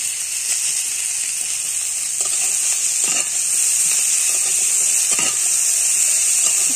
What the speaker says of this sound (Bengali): এবার পুঁইশাকগুলো দিয়ে দেবো। পুঁইশাকের সাথে ভালো করে আলুগুলো ভেজে নেব।